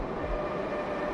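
A subway train arrives in an animated story with a steady, broad rumbling roar of wheels on rails, loud and close, with no voices.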